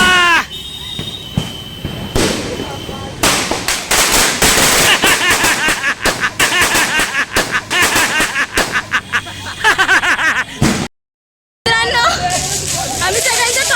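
Firecrackers bursting during Diwali celebrations, dense rapid crackling strings of loud pops and bangs mixed with excited voices and children's chatter, continuing almost without pause apart from one brief silence.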